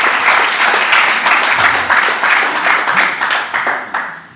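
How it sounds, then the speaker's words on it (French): An audience at a village New Year's greetings gathering in Badefols-d'Ans gives sustained applause for a hunting society member, a thick, even clapping that holds steady before tapering off at the end. "je pense qu'on peut applaudir Louis"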